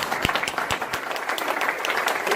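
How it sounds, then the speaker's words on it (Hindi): Audience applause at a network marketing training session, a dense patter of many hands clapping steadily and fairly loudly, with a voice faintly heard in the mix. "इनके लिए जोरदार ताली होनी चाहिए"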